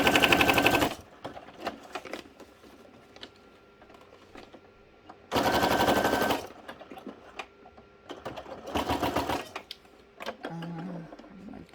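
Domestic sewing machine stitching craft journal tags on a cramped table, three bursts of rapid mechanical chattering separated by quiet pauses with small handling clicks, heard up close.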